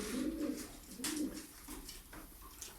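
Pigeons coo nearby in low, throaty bursts, repeating a few times amid faint rustling.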